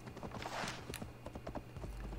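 Horse hooves clip-clopping in the video game Assassin's Creed Valhalla, a quick run of light rhythmic hoof knocks over a low game ambience, moderately quiet.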